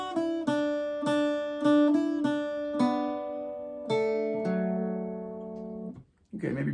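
Irish bouzouki picks out the melody of the Irish tune Sí Bheag, Sí Mhór, a run of clear plucked notes ringing close and alone, each one sustaining into the next until a brief noise at the end.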